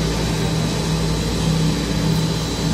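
A starch-based polymer cryogenic grinding machine runs steadily, a loud, continuous mechanical hum and drone with no pauses or changes in pace.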